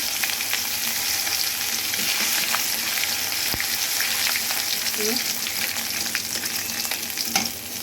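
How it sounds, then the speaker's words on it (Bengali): Chopped garlic fries in hot oil for egg vegetable fried rice, giving a steady, close crackling sizzle with a few sharp clicks from stirring. "রসুনটাকে একটু ভালো করে তেলের উপরে ভেজে নিব"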